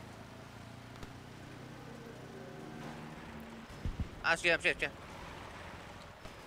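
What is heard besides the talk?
boat engine in video game Battlefield V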